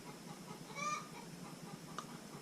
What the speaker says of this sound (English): You hear that chicken out there?